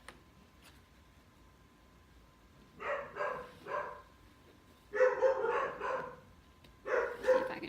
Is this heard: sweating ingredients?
no